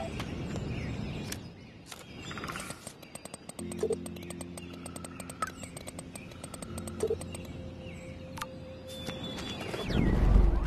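Pigeons or doves cooing outdoors in the game Life is Strange, soft repeated low coos with scattered chirps and ambient rustle, steady and moderately near.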